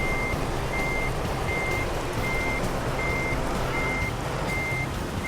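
Reversing beeps from a truck in American Truck Simulator, evenly spaced alarm tones repeating about eight times over a steady low engine rumble, with no voices.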